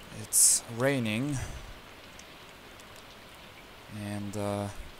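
Rain in Stardew Valley falling as a steady, soft hiss throughout, under a person speaking briefly near the start and again toward the end.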